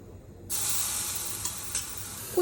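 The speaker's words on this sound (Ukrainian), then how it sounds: "Зробимо перевірку, чи достатньо нагріта сковорідка водою." After a brief quiet moment, a sudden loud sizzle erupts as water hits a hot stainless steel frying pan, hissing steadily and close up with small crackles.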